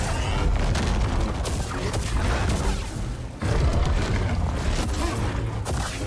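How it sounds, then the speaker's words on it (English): A grenade goes off in Star Wars Jedi: Survivor, with loud booming blasts, a brief dip, then another surge of explosive noise amid dense combat effects. "They threw a grenade as they died."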